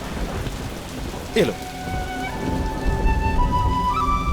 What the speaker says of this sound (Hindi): अब बारिश आ गई।